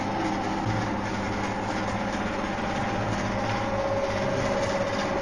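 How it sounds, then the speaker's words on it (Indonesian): A continuous low rumble and rattle of a train rolling along the rails, steady and even throughout, with no voices. "Lagi naik kereta api kayaknya."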